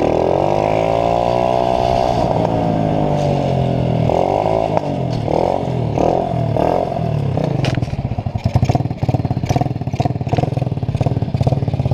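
A four-stroke moped engine revs hard for a wheelie, loud and close, with rising and falling pitch sweeps that break into rapid, rattling throttle blips toward the end.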